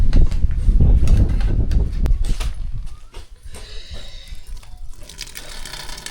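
Water from cooked rice pours and splashes out of a small pot as it is drained, loud and close at first, then trickling and dripping more faintly.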